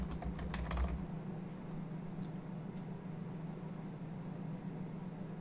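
Soft, quick keystrokes on a computer keyboard, a short clustered burst near the start and then scattered taps, faint against a steady low hum.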